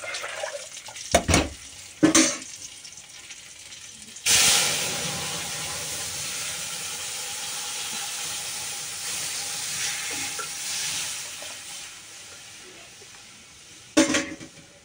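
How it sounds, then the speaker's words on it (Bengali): Radhuni spices hit hot oil for a dal tempering with a sudden loud sizzle that settles into a continuous, fairly close hiss, preceded by a few sharp knocks and ending with another clunk. "আর এই যে ফোড়নে দিচ্ছি রাঁধুনি দিচ্ছি ফোড়নে।"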